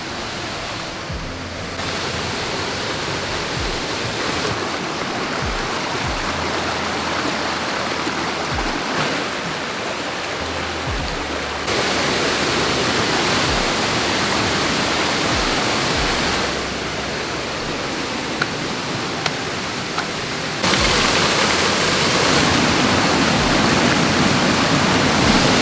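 A waterfall rushes in a steady, loud broadband roar throughout, with small shifts in level as the listener moves near the falling water; no voices are heard.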